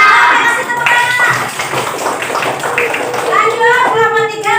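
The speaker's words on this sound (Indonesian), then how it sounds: "Oke, kasih tepuk tangan" Classroom applause for a correct answer: a crowd of children clapping in a steady patter, close and fairly loud, mixed with children's voices talking and calling out over the claps.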